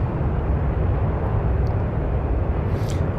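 A steady, loud jet engine drone from an A-10 Warthog in the DCS World flight simulator, a continuous broadband roar that holds evenly throughout with no voices.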